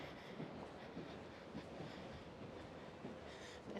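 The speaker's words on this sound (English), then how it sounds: "There's a train going by just right near there." Train rolling past close by on a Copenhagen street, a soft steady rumble with faint rhythmic clatter of wheels, quiet and continuous throughout.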